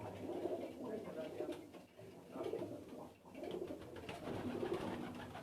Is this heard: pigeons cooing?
yes